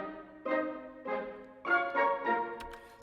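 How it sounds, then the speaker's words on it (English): Soft plucked notes from a blended ensemble of flutes, woodwinds and pizzicato strings, playing a short rhythmic phrase of separate chords. "So that's flutes, woodwinds and strings pizzicato in one blended section"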